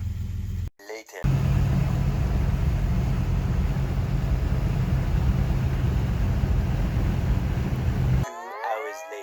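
A car with a Slant Six engine fitted with a throttle body drives along, giving a steady, loud low rumble of engine and road noise under spoken voices, with brief breaks at the start and end.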